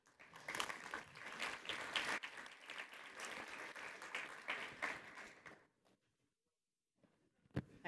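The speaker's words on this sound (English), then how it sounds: "So if you give him a round of applause." An audience at a Pride and Prejudice New York event applauds Simón Cazal, director of SOMOSGAY, with dense, loud clapping that fades out after about five seconds; a single sharp clap sounds near the end.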